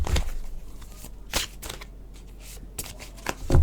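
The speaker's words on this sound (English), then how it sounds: "I don't know why I'm shuffling." Tarot cards are shuffled by hand close up, with a few sharp riffling bursts and softer card slides between them, alone without speech.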